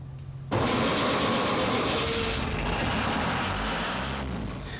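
Lifeboat engine with hydraulic start, after a moment of quiet it fires abruptly and settles into a loud, steady running rumble close at hand.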